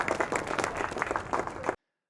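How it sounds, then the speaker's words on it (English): An audience at a downtown science cafe talk claps in a dense burst of applause, close and steady for nearly two seconds before cutting off abruptly into silence. "Please give a big round of applause to Luke Pangle."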